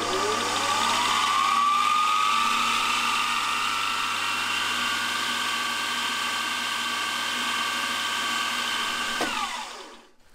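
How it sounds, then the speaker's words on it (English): A machine spindle drills a 1.1 mm (43 thou) hole in the body of a small two-jet throttle carburettor, a loud steady whine with rising tone that holds before cutting off near the end. "drill the remaining bit of the hole with this 43 thou drill bit"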